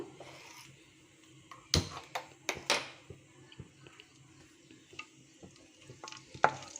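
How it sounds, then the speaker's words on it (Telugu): Cumin seeds and a bay leaf sizzle in hot ghee in a pressure cooker with a soft, steady fry, while a spoon stirs and knocks against the metal pot in several sharp clicks. "నెయ్యి వేసానండి నేను ఇప్పుడు ఇందులోకి జీలకర్ర వేస్తున్నాను బేలీఫ్ ఒక్కటి వేసాను"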